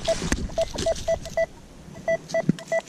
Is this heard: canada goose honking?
no